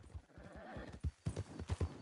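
Hooves of a Missouri Foxtrotter horse in Red Dead Redemption 2 clop in an uneven, close rhythm of heavy thuds, with a brief whinny-like tone partway through and no speech.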